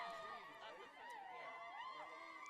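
Steady murmur of crowd chatter fills the stands at an evening softball game between Erie and Silver Creek, many overlapping voices blending into a continuous hum with no single sound standing out.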